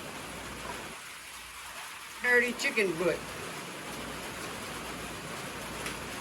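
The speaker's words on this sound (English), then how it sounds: "it's raining. Been raining. It's supposed to do a lot more raining." Steady rain falls outdoors as a constant soft hiss throughout, with a brief spoken phrase heard over it midway.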